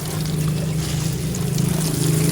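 Bitter gourd seedbed being watered, a steady broadband trickle and splash of water running continuously and fairly loud throughout, with a low hum underneath.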